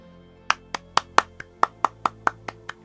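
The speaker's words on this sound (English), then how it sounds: "Everybody applaud." Applause sound effect in the video game Quest Master: a run of about ten crisp, separate claps at an uneven rhythm, loud and close, with faint game music humming underneath and no talking.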